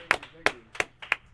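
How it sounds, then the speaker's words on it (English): Four or five slow, distinct hand claps ring out close and sharp on a talk show for a control-room staffer named Riker, evenly spaced with quiet gaps between. "I want everybody to give a big round of applause for Riker"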